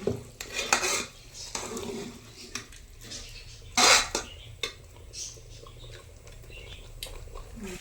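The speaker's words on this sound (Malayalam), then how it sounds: "കുറച്ച് കരിയേപ്പിൻ്റെ ഇട്ടു അപ്പം ഇനി അത് നല്ലോണം ഒന്ന് ഇളക്കിയിട്ട്" Curry leaves being stirred through food in a pan in a home kitchen, with scraping clatters of a utensil against the metal in short bursts, one sharper clank midway, and a light background hiss throughout.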